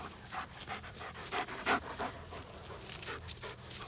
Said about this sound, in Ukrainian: Мічиган це, це та собака, що вивезли ми її зі Слав'янська.